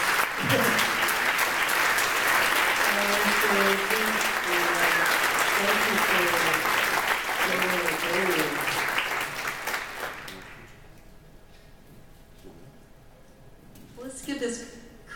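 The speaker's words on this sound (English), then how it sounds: "Let's give this crew one more round of applause for the great job." An audience at a Deepsea Challenge panel applauds the expedition crew, with sustained loud clapping under a voice speaking for about ten seconds, then a fade to quiet room tone and a brief burst of sound near the end.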